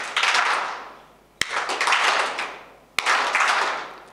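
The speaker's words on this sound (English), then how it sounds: "Just clap once, twice, thrice, once, twice, once." An audience at a career expo claps together in unison, three synchronized bursts, each a sharp onset followed by a trailing wash of scattered clapping that fades before the next.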